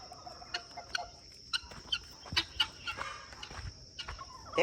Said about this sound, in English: Let's go check out the chickens.